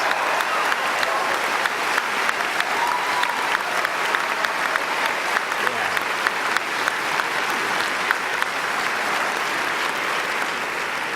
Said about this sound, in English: give yourself a round of applause, please